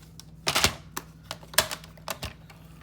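A paper trimmer trims a card window sheet for a slider card, giving a close series of sharp clicks and snaps spaced irregularly, with no talking.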